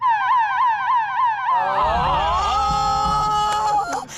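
A loud wailing siren rises and falls in quick repeated sweeps, then changes into a lower, longer tone as a rumble comes in beneath it.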